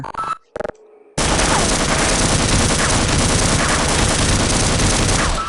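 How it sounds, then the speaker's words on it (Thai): After a couple of short sharp noises and a pause, dense continuous gunfire erupts in the video game Half-Life, loud and relentless, like a sustained automatic barrage. "เสียงปืนดังมากเลยอ่ะ"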